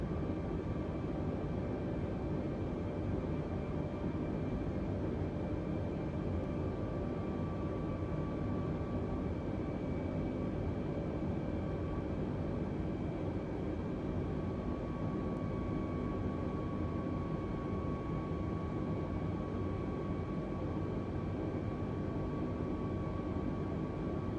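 Steady cockpit drone of an aircraft in Microsoft Flight Simulator 2020 on a virtual flight from Guernsey to Jersey, a continuous even engine hum with a faint whine, moderately quiet and unchanging with no voices.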